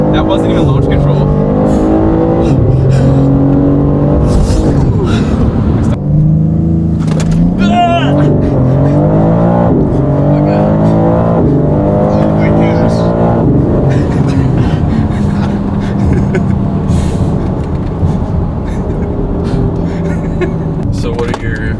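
A BMW G80 M3 Competition pulls hard from a standstill, the engine climbing through loud revs with audible gear changes, heard from inside the car while occupants talk over it.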